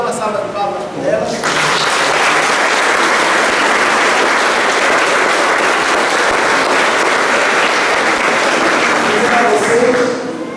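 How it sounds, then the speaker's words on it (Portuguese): A church congregation bursts into sustained applause that holds steady and loud for about nine seconds, with a few voices under it before the clapping starts and as it fades. "Então, vamos dar uma salva de palmas para elas."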